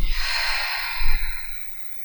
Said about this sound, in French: inspirez et soufflez avec la bouche